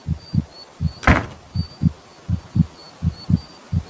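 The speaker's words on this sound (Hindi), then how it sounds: "फिर धीरे धीरे दरवाजे पर कुंडी लगाते ही दरवाजे में एक हल्की सी आवाज़ हुई।" A door latch snaps shut with a single sharp metallic click, standing out over a steady low rhythmic thumping and a faint high tone in a quiet cartoon horror scene.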